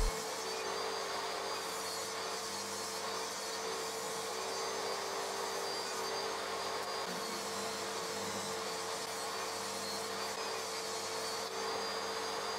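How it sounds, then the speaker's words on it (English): Table saw cleaning up the faces of salvaged oak pieces: a continuous high-pitched spinning whine with dense noise, steady and close throughout, with slight changes as wood feeds through and no talking. "I cleaned up each face on the table saw."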